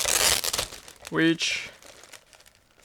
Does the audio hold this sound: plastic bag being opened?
yes